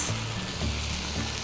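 Tofu with oyster or king mushrooms and pepper being stirred in a hot pan, a dense close sizzle with faint spatula movement throughout the short moment.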